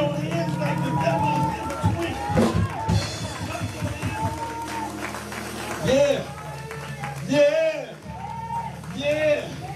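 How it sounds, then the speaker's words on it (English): A church congregation shouting and clapping during a sermon, a crowd roar with applause beneath a preacher's loud, sung-out voice that keeps cutting in over the noise. "Clap your hands like the devil."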